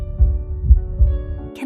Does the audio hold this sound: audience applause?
no